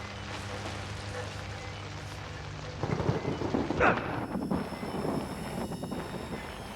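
Steady rain falls outside a building in the horror video game Outlast, with a low thunder rumble swelling partway through and continuing under the downpour.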